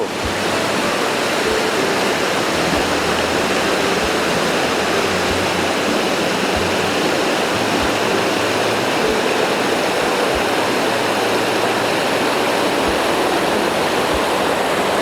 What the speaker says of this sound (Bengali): অসাধারণ অসাধারণ তাম্রকুমার ওয়াটার ফলস